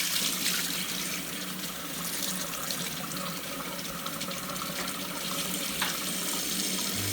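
Tap water runs steadily into a sink while something is rinsed out, a constant close splashing hiss with no voices.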